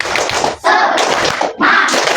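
A primary school class claps a rhythmic cheer together, with dense, loud bursts of hand claps in two groups separated by a short pause, close and energetic.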